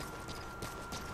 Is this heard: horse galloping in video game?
yes